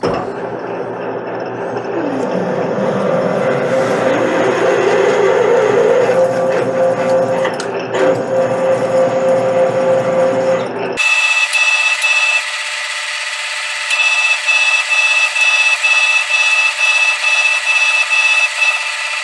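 A metal lathe drills a larger hole, just under three-quarter inch, in a metal workpiece at lowered spindle speed. A steady grinding, rubbing drone carries on for about eleven seconds, then gives way to a thinner, high whine with a sharp tonal ring.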